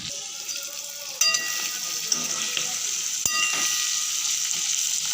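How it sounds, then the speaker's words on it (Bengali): Tangra fish sautéing in a pan for a Bengali tangra macher jhol, giving a steady close sizzle of frying with a few clinks of the stirring utensil and no talk. "3-4 মিনিট মতো এপিট ওপিট নেড়ে চেড়ে একটু সাঁতাল দিয়ে নেবো মাছগুলোকে।"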